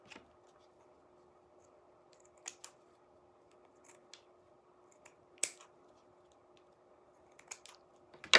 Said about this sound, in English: I'm gonna cut these two apart so that I can place them how I want them